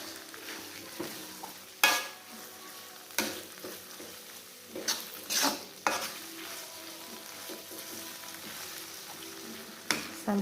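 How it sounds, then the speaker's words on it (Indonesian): Spice paste for spicy Indonesian fried rice sizzling and frying in hot oil until browned, with a spoon stirring and scraping the pan in several bursts over a steady crackle. "kita goreng sampai berubah warnanya menjadi kecoklatan"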